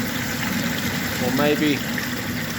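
A submersible sump pump running flat out, pushing water up a 2-inch pipe with a check valve, a steady churning, gushing water rumble beneath a man's brief speech.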